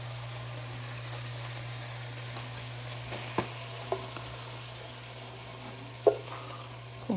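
Shrimp sizzling in a frying pan for a creamy lemon pesto pasta, a soft steady crackle with a low hum beneath and a few sharp clinks of a utensil against the pan.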